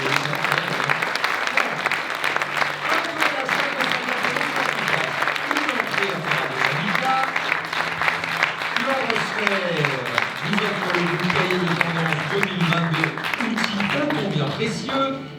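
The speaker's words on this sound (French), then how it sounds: "Vous pouvez applaudir même les remettants." Long applause from the audience at a florists' competition award ceremony, steady clapping that holds for the whole stretch, with someone talking over it and a few scattered cheers.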